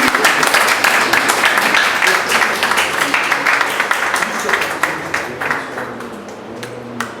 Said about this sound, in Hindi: तालियों की गूंज लीजिए।